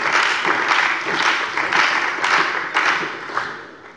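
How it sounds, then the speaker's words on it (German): Applause fills a parliament plenary chamber during a government statement, dense clapping from many hands swelling in waves and tapering off at the end, loud and close with no talk over it. "Applaus"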